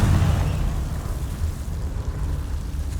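A Confringo blasting spell explodes in the video game Hogwarts Legacy: a loud, close burst with a heavy low rumble that rolls on steadily for about three seconds, with no voices.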